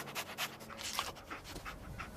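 Dogmeat, the dog companion in the video game Fallout 4, pants in quick, quiet rhythmic breaths, faint and brief with no talk over it.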